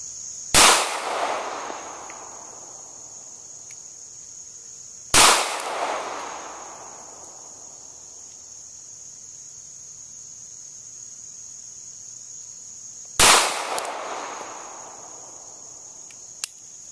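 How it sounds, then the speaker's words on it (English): Three loud, sharp pistol shots from a Smith & Wesson Bodyguard .380 fired outdoors, spaced several seconds apart, each with a short echoing decay and a steady high ringing tone in between. "I've got 5 rounds of 380. So let's see how it shoots."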